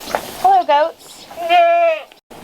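Goats bleat in a barn during morning milking, two long wavering cries with a short one before, loud and close, with brief noise between.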